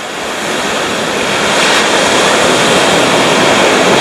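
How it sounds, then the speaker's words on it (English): Ocean waves crash and roar on a beach along the Great Ocean Road beneath huge cliffs, a loud, continuous wash of surf that builds steadily, mixed with wind noise on the microphone. "the waves come up, build up and then suck you out with huge volumes of water"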